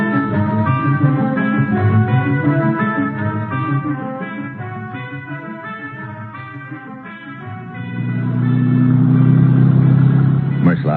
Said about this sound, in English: Merslag and I head out in his auto.